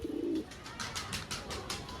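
Domestic pigeons coo in a short low burst near the start, followed by soft rustling and shuffling sounds.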